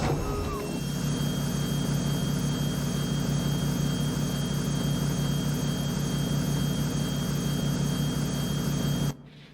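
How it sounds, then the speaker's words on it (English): Modded truck engine idling with a jet-style idle in American Truck Simulator, a loud, steady whining roar with a high tonal whistle and low rumble, continuing unchanged for about nine seconds before cutting off abruptly. "we've carried that jet idle through right up to the track's idle speed"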